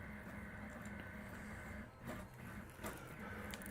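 A 3D printer running a print hums and whirs faintly in the background, its motors shifting tone with a couple of soft mechanical clicks.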